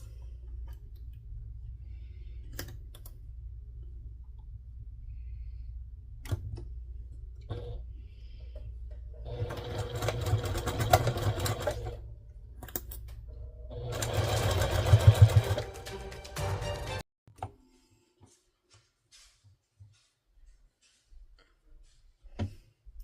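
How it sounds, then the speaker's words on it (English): A sewing machine stitches across fabric at a quarter-inch seam in two loud sustained bursts, its steady whirring motor rising from a low idle hum before stopping, followed by a few faint clicks. "Then I'm going to sew across that at a 1/4 inch stitch."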